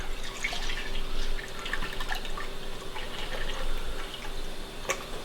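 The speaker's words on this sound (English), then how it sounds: "We're going to use 3 cups of milk." Milk poured for Oreo pudding mix, a steady liquid stream trickling and splashing into a bowl, close and continuous for several seconds with no talking.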